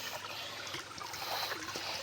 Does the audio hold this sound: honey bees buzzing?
no